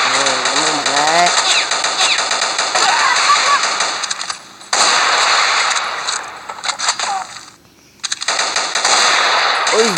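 Video game gunfire bursts loud and close in rapid strings with brief gaps between volleys, over an in-game backdrop that carries whistling effects at the start.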